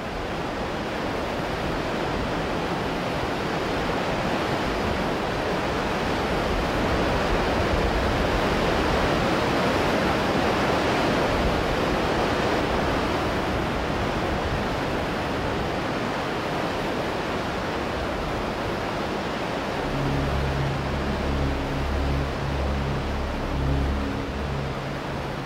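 Zambezi River water churning at the foot of waterfalls in Africa makes a loud, steady roar of broadband rushing noise that holds unbroken throughout.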